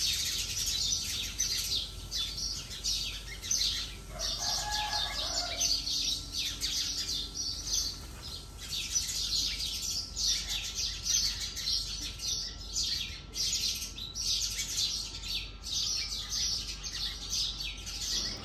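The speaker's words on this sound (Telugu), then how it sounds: "ఉదయాన్నే 6 అలా టైం అయ్యేసరికి పిచ్చుకలు అవి చాలా బాగా ఎక్కువ వస్తాయి మామిడి చెట్టు దగ్గరికి" Sparrows chirping at a mango tree in the early morning, a steady stream of small high tweets and calls from several birds at a moderate distance, with soft household sounds underneath.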